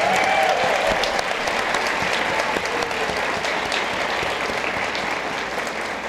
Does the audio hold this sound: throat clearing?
no